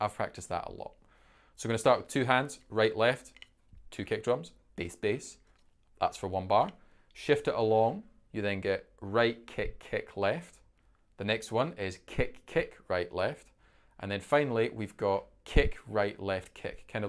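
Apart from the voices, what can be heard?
No everyday noises stand out.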